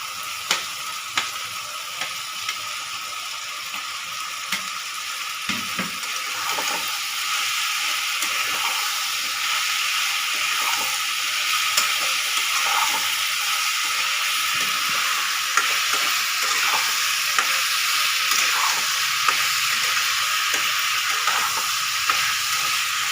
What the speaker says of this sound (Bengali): এবার আমি আলুগুলো আস্তে আস্তে ফ্রাই আলুগুলো ছেড়ে দিচ্ছি